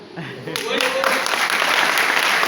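A seminar crowd applauds, with the clapping starting quickly and building into steady, sustained applause. A voice is briefly heard at the start.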